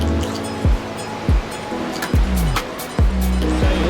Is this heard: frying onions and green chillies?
no